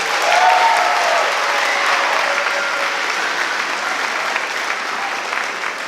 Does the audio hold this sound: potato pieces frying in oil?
no